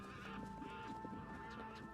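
Horses in a TV episode whinny and neigh loudly up close, with clip-clop hoof sounds beneath and a steady tonal hum throughout.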